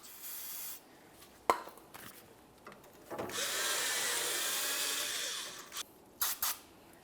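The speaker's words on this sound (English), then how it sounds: "we're going to be using a bore brush." A bore brush scrubs the caliper slider pin ports on a 2008-2017 Mitsubishi Lancer's rear brake bracket with a close, hissing rasp, a couple of sharp knocks around it, and a sustained scrubbing burst in the middle.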